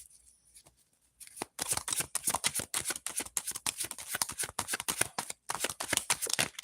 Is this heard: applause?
no